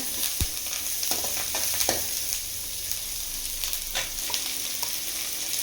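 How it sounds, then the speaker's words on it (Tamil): Curry leaves and onions frying in a pan, giving a steady close sizzle with occasional stirring scrapes and crackles throughout, no voices. "கருவேப்பிலை போட்டுக்கலாங்க. வெங்காயம் நல்லா வணங்கிட்டோங்க."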